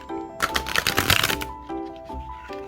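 Oracle cards being shuffled by hand: a flurry of soft riffling card flicks in a close burst, followed by a couple of shorter shuffles, with faint background tones underneath.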